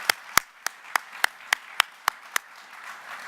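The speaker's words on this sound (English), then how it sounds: "So how about a round of applause for our AIAA staff?" Audience applause at an aerospace propulsion and energy manufacturing conference, heard as a string of sharp, evenly spaced claps over a soft wash of crowd clapping, fairly close and with no talk.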